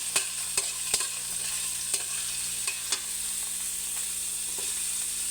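Garlic sautéing in a hot pan with oil, a steady sizzle running throughout, punctuated by several sharp clicks and scrapes of a utensil stirring against the pan.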